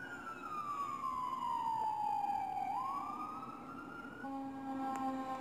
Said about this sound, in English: We got old engine 32 responding out of Station 1.